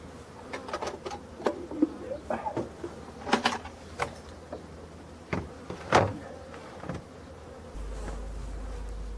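A honeybee swarm hangs above a hive box being placed beneath it, with buzzing bees passing close by in bursts and flickers over a steady outdoor background, some nearer and louder than others.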